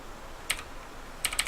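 Keys on a Skorpion K2 RGB mechanical gaming keyboard click sharply and close, one press, a pause, then two quick presses, with no talking.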